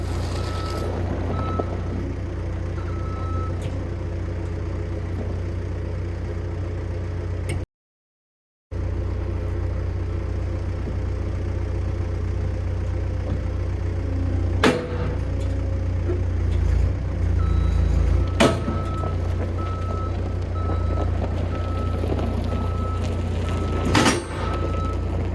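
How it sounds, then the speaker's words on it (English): A skid steer working near a cut-off back half of a semi truck frame rail, its engine droning steadily and loud throughout, with a brief drop-out, occasional metallic clanks and a reversing beep. "See what the skid steer will do with this"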